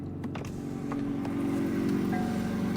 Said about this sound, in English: Now to fire up the 750S Spider. And let's go hear that idle from outside